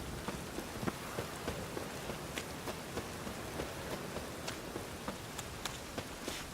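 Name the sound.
rain storm in video game The Witcher 3: Wild Hunt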